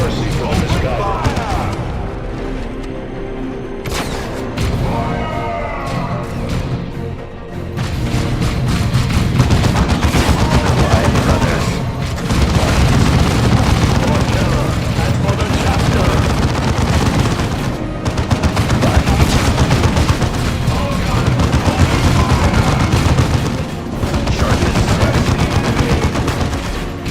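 Continuous heavy gunfire and explosions from the Warhammer strategy game Dawn of War 2 Chaos Rising, dense and loud throughout with rapid bursts and booms, while voiced unit lines speak over the battle.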